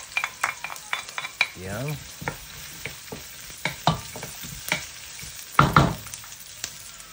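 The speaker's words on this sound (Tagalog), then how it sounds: "dito naman mag-gisa tayo ng sibuyas. Start tayo gumawa ng ating sauce." Onion and garlic sauté in a pan for a kare-kare sauce, with soft sizzling under clattering stirs and scrapes of a utensil, and a brief word spoken.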